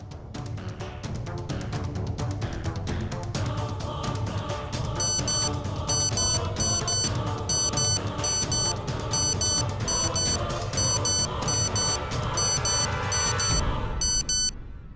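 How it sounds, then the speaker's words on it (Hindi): A wristwatch alarm is played in a courtroom: rapid, shrill, repeating beep bursts pulse in a regular pattern over loud, continuous dramatic background music. "अब तो युग अपनी घड़ी का अलार्म जरा अदालत को सुनाने का कष्ट करेंगे।"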